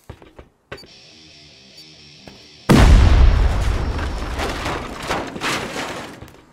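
C4 charge detonating during a video game raid: a quiet electronic beeping tone, then a sudden loud explosion that rumbles and crackles with debris for several seconds.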